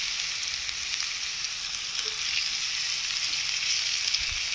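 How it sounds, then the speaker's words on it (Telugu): Bitter gourd frying in hot oil, a continuous dense sizzle that holds steady and close throughout, with faint stirring movements and no talk. "లైట్ రెడ్ లేదా లైట్ గోల్డెన్ కలర్ వచ్చేంత వరకు దాన్ని మనం ఆయిల్లో వేపుతూ ఉండాలి."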